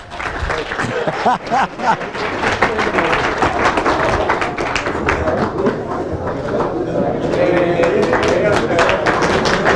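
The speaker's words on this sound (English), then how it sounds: "Please give them a big round of applause." A crowd applauding prize winners at a golf tournament, dense and sustained clapping that holds steady throughout, with a few voices mixed in.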